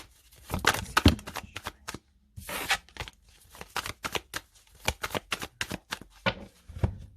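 Tarot cards shuffled and cut by hand, a run of crisp riffling flutters and sharp slaps with short pauses between bursts, close and clear with no talking.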